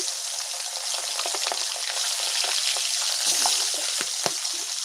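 Small hilsa fish frying two at a time in hot oil in a wok, giving a steady, close hiss of sizzling oil broken by sharp spitting pops, with no talking.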